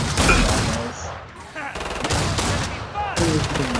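Rapid gunfire from the video game Killing Floor 2 rattles in dense bursts, loud and close, broken by a short lull and then resuming in sharp volleys, with a voice speaking over the shooting.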